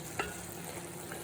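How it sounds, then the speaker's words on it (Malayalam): Aviyal vegetables stirred in a pot after the water has cooked off, one soft scrape near the start over a steady low hiss of cooking, then quiet stirring. "നമുക്കിത് ഇളക്കി കൊടുക്കാം."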